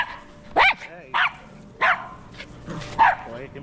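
A small female dog barks four times in short, sharp, fairly loud yips spaced about half a second to a second apart, close by, with faint whimpering between the barks and no clear speech.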